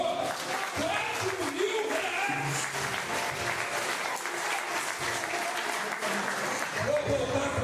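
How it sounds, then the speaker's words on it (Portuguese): A church congregation at a Sunday service applauds together in a sustained, dense roar of clapping that fills the room, while a voice carries on over it. "Você pode aplaudir o Senhor?"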